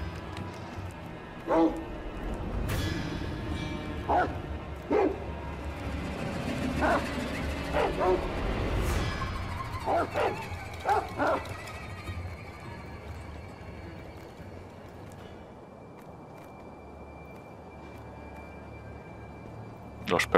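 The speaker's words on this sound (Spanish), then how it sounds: "Joder, los perros, tío." Dogs barking in the Sekiro video game, a series of sharp barks and yips repeating through the first half over a rumbling game backdrop, with someone talking at times.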